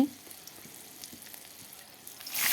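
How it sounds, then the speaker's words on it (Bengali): Carrot and potato pieces fry in a pan, a quiet steady sizzle with faint crackles and occasional clinks, rising briefly at the start and end. "গাজর আলু ভাজা বসিয়ে দিলাম। গাজর আলুটাকে ভাজা করে নিই"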